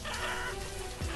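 Leghorn chickens in the video game Banished cluck and crow amid a busy, continuous ambient game soundscape, brief and moderately loud.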